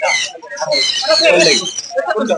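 Small caged birds chirp and twitter in busy overlapping bursts at Mirpur bird market in Dhaka, Bangladesh's largest bird market, close and fairly loud with brief gaps.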